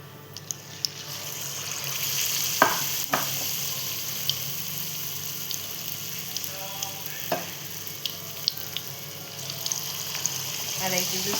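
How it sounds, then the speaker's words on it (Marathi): Chicken lollipops deep-frying in hot oil give a continuous crackling sizzle, close and steady, with occasional sharp pops and clinks of a utensil against the pan. "त्यांना पण आपण सेम असेच फ्राय करून घेऊया"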